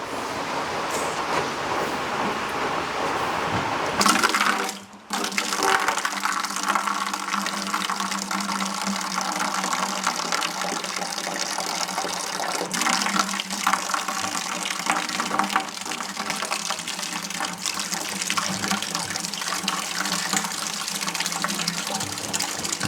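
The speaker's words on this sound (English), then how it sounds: "that was just mostly water that was left over" Leftover water from winterizing pours steadily from a Class B motorhome's sewer valve, a continuous gushing splash that briefly cuts out and resumes with a rougher, louder flow, close by and alone.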